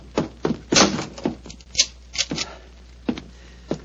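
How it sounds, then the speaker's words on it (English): A door being shut and locked in an old-time Sherlock Holmes radio drama, heard as a series of sharp knocks, thumps and clicks, close and distinct, with quiet gaps between them. "Follow me, lock the door behind you."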